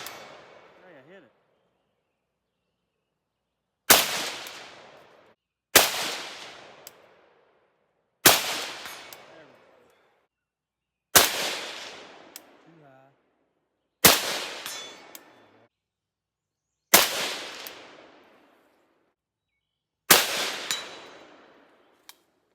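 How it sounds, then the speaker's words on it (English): Seven loud, sharp rifle shots from an Arsenal 107R fired offhand at a 135-meter target, spaced a few seconds apart, each with a decaying outdoor echo and brief faint voices between shots. "I'm gonna be shooting offhand, so probably gonna be a lot of misses"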